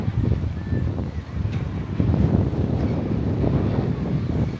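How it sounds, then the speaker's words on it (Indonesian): Strong wind roars across the Tottori sand dunes, buffeting the microphone in a loud, continuous low rumble with gusty swells and no clear speech. "Aduh, anginnya kenceng banget"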